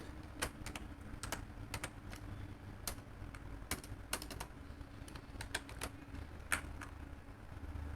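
Typing on a computer keyboard while writing code for a WordPress plugin: irregular bursts of crisp key clicks over a steady low room hum, fairly close and moderately loud, with no voices.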